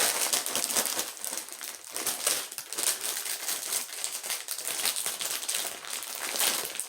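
A plastic cracker wrapper crinkles steadily as it is opened beside a bowl of homemade chili, the rustling close, busy and continuous for about seven seconds with no talking.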